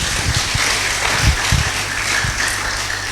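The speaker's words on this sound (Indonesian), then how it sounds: "Mari kita berikan tepuk tangan buat Tuhan Yesus." A church congregation claps during a Pentecost worship service, a dense burst of applause with a few sharper hand strikes standing out, close and fairly loud, continuing throughout the short clip.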